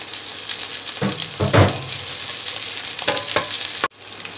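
Potato pieces and onions sizzle in hot oil in a pan for a South Indian festival dish, with loud stirring scrapes at moments and a steady close frying hiss throughout.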